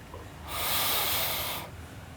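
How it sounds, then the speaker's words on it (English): A single forceful breath pushed out during pranayama practice, a loud airy rush lasting about a second that starts abruptly and fades, heard close up against quiet. "Exhale."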